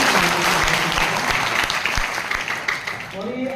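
Loud, steady applause from a seminar audience at a Meghwal community hostel career guidance event, dense clapping filling the whole stretch and easing slightly toward the end.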